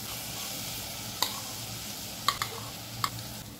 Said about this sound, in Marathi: आता आपण याच्यामध्ये धुवून घेतलेले तांदूळ टाकूया।